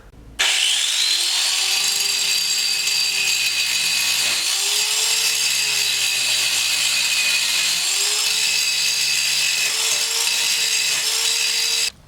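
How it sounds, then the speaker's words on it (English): An angle grinder cuts through fasteners on a Chevrolet Caprice car seat bracket, a loud steady high-pitched whine that runs almost unbroken with slight dips in load, and no voices. "I'm gonna grind this off so I can punch these out"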